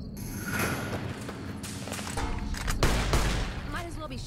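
Gunfire in the video game Fallout New Vegas, a steady stretch of rapid shots and thuds with a sharp louder burst near the end, under a low game background.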